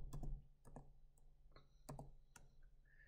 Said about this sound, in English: I'm going to type the expression for you